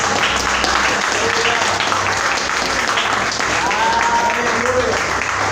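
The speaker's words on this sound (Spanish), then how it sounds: "A Dios, un aplauso para Dios." A church congregation claps loudly and continuously in praise to God, a thick, steady roar of applause with voices rising and calling out underneath.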